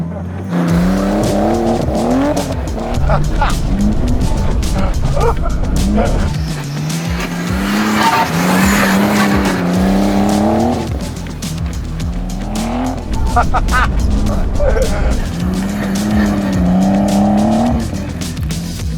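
A car is driven hard around a race track, its engine revving loudly and rising in pitch through repeated acceleration runs, with tires squealing in the corners and people talking in the cabin throughout.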